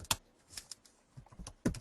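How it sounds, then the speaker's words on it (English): Someone types by hand on a computer keyboard at a desk, producing sparse, irregular key clicks with a few louder strikes, close by and with no talking. "I am typing explicitly here. Manually, I am typing it."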